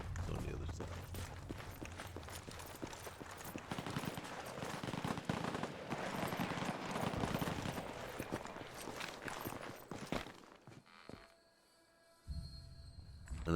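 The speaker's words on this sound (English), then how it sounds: "I know we hear gunfire and we run towards it." Rapid bursts of gunfire in the video game Fallout 4, with dense repeated shots and footsteps amid game ambience, then a brief quiet gap before sound resumes.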